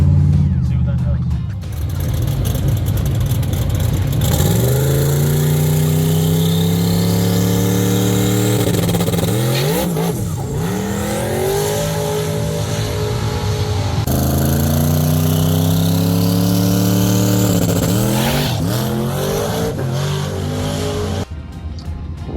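Small-tire drag race car engine on a shakedown test pass, loud and close, revving hard through repeated rising gear pulls with sharp shifts, then cutting off at the end.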